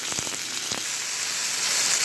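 Chicken sizzles hard in a super hot pan, a steady loud hiss of frying with a couple of brief crackling pops near the start, no voices over it.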